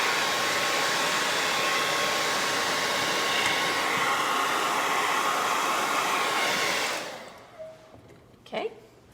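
A hair dryer blows steadily and loudly on paint for a faux wood plank craft, a continuous rushing whir that cuts off near the end, followed by a few small handling knocks.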